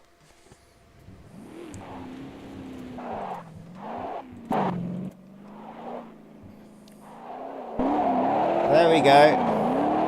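Cars drift in the Automobilista 2 racing game, with a steady engine drone, shifting revs and tyre squeal rising near the end, while someone talks over it.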